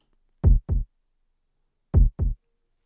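808 bass sample layered with a kick drum for a heartbeat sound effect, two paired thumps, the second of each pair softer, deep and punchy with silence between beats.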